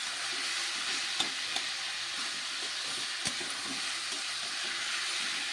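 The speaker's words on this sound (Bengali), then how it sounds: "আবার একটু নেড়ে চেড়ে ভালো করে লাউটাকে ভেজে নিতে হবে।" Chopped bottle gourd with lentil badi fries in a pan, giving a steady close sizzle and hiss with a few soft knocks of the stirring utensil.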